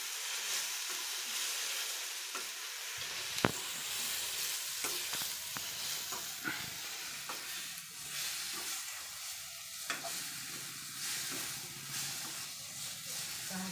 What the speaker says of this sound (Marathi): बघा कांदा भाजला, चांगला लाल कांदा भाजला. आता याच्यामध्ये ही भाजी टाकते.